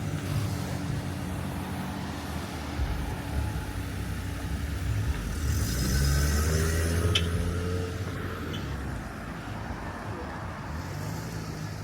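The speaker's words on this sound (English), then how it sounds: "see how busy the street is in Nuku'alofa in the morning" Morning car traffic on a street in Nuku'alofa, Tonga, with engines idling and passing vehicles in a steady, moderately loud roadway rumble and a louder pass near the middle.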